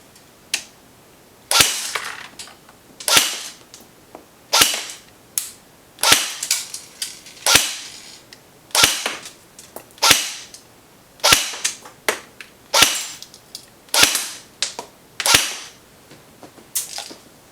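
An Echo 1 MP5-A5 airsoft electric gun with a Field 400 FPS gearbox fires a string of sharp, loud single shots at an uneven, roughly one-per-second pace, each a crisp crack with a brief whir, close and with no voices.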